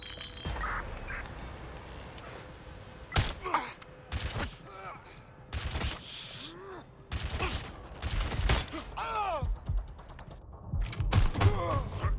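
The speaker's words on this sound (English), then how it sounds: "Hey, someone shooting." Gunfire in the open-world game Watch Dogs: Legion: a series of sharp, separate shots and short bursts fires at irregular intervals, some close and loud, mixed with city noise and brief voices.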